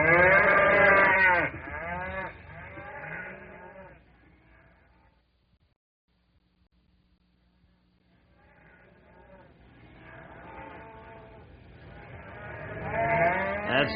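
Spooked cattle lowing and bleating in farm corrals, several animal calls layered loudly at the start, fading to near silence midway, then rising again as the agitated livestock grow louder toward the end.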